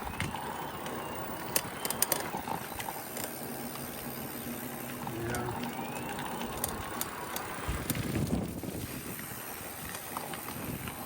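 An electric bike with a derailleur and a 34-tooth gear rides under light throttle. A low, steady hum of motor and drivetrain runs under constant wind buffeting on the microphone, with a few faint clicks and rattles.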